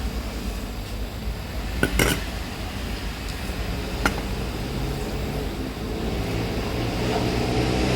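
Yellow pineapple shrimp curry is ladled out of a pot, with a few sharp metallic clinks of the ladle against the rim over a steady low background hum.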